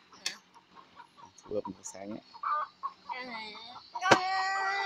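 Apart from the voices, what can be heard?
chicken clucking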